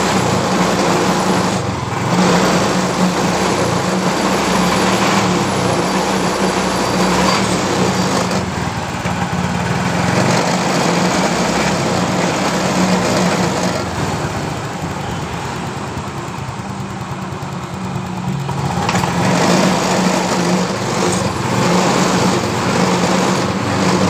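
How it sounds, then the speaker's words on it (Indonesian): An engine idling steadily at a 42 pressure reading, then revving up as the throttle lever is pulled, with the tone rising and falling over a continuous loud drone. "mesin posisi dalam stasioner di tekanan di 42. Kemudian coba kita tarik tuas gas."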